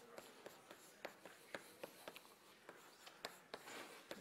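Chalk writing on a board during a multivariable calculus lecture on Stokes' theorem, a faint, irregular series of sharp taps and scratches at a distance, with no speech.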